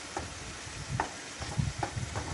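Tomato paste sizzling in a pan for aloo matar sabji, stirred with a spoon in soft repeated scrapes over a low, steady frying hiss.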